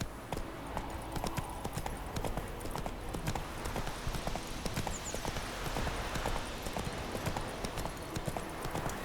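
A horse's hooves gallop steadily through The Witcher 3 while it is ridden, a continuous close clip-clop rhythm with a soft ambient bed and no talk.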